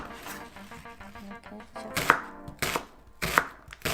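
Onions being chopped on a board with a knife for keema, a run of quick light taps followed by several sharper, louder knocks, close and clear with no talking.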